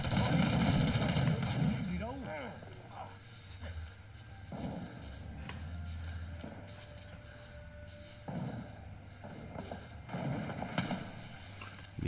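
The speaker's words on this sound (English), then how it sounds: "Someone's shooting at me." Gunfire in a Rising Storm 2: Vietnam match, with scattered shots and rumbling blasts amid battlefield noise, mostly moderate and at varying distances, with voices talking over it.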